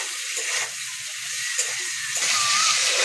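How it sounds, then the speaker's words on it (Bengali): Shrimp fry lightly in oil with a soft, continuous sizzle and hiss, fairly close, and faint bubbling comes through it. "মাছগুলো হালকা করে ভাজা হয়ে গেছে"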